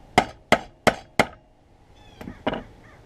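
A hammer strikes a small chisel on a workbench during a restoration of an Air Force pilot survival knife. Four sharp, evenly spaced metallic blows ring out up close, followed by a couple of softer, lighter taps.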